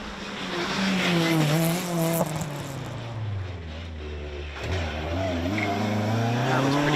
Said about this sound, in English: Here's our old school Sprinter coming through, and this is going to sound fantastic as well,